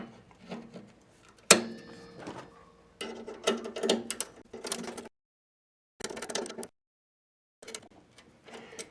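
Bolts being tightened on the wheel of a Barker 612 chipper shredder, with vice grips holding the wheel still; short bursts of close metallic ratcheting clicks come in several spurts separated by silent pauses.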